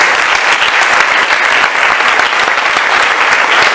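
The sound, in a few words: congregation applauding in church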